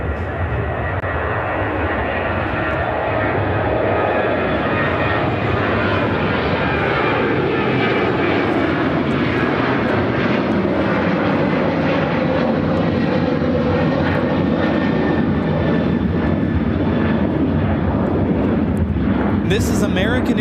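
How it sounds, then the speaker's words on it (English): An American Airlines Boeing 737-800 takes off at Chicago O'Hare, its jet engines roaring loudly and steadily for the whole stretch with a shifting high whine, while people chat quietly in the background. "1168 taking off to Houston Intercontinental on a 737-800."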